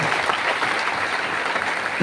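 A crowd applauds steadily for actor Kiran Mane at a public gathering in Kolhapur, producing dense, sustained clapping that fills the space, with a faint voice murmuring near the end.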